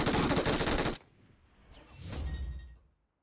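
A fast, loud burst of automatic gunfire in PUBG Mobile, lasting about a second and cutting off sharply, followed by a fainter whooshing rustle.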